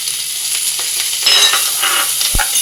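Chopped onion, ginger and garlic go into hot oil in a pressure cooker and fry with a steady, close sizzle, with a few stirring scrapes and a soft clunk near the end.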